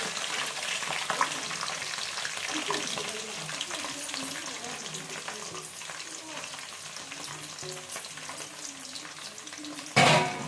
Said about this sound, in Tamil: நல்லா வெங்காயம் வதங்கிடுது